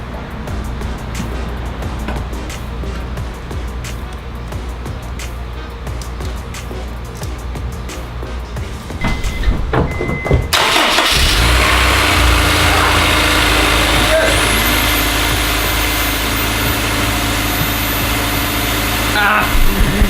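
A Honda S2000 engine with a swapped coil pack turns over and catches, settling into a loud, steady idle that runs to the end, with a person speaking before it starts.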